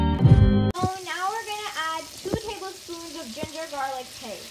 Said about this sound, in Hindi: ओह सॉरी, टोमेटोज डालेंगे और फ्राई करेंगे.